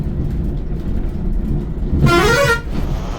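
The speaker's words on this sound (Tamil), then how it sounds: "once more horn" A loud bus horn on a long-distance Bangalore to Mumbai coach blares once for about half a second over steady engine rumble, with no talking.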